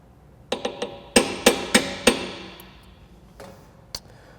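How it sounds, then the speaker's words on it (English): Metal inserts being tapped into the chassis eyelets of a Polaris Timbersled with a socket, a run of sharp metallic knocks in quick succession, then a few sparser, fainter taps. "I've selected a socket that's slightly smaller than the bore diameter so that I can tap these in"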